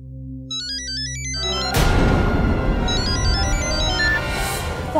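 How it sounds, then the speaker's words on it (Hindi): A phone ringtone plays a bright electronic melody, then swells into a fuller, louder musical passage. "तो आसावरी काकी की फोन की रिंगटोन है।"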